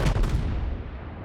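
Naval guns of a battleship firing at a cruiser in the World of Warships video game, a single heavy boom with a deep low rumble that decays quickly, loud and close.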